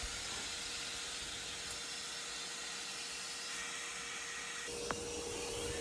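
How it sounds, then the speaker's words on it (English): Vacuum cleaner sucking dirt from a boat's bilge, a steady broadband whooshing hiss that runs unbroken and fairly quiet throughout, with a single sharp click near the end. "I used vacuum cleaner to get out some dirt"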